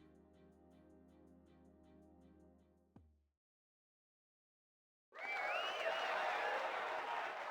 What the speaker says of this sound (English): the bustle of voices reaches my ears. Is that a cheer?